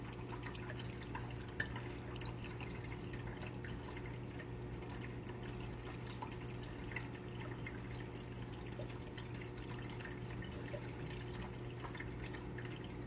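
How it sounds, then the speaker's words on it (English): Water pouring steadily into the hose of a new reef tank canister filter before the pump starts, a continuous close trickling and gurgling wash over a low steady hum, with no voices. "pour water until the hose is full before I start the pump"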